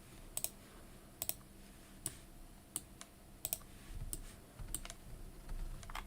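Close, sharp computer mouse clicks at a desk during a drawing stream, spaced irregularly with a few double clicks, over low room noise and a faint rumble near the end, no voices.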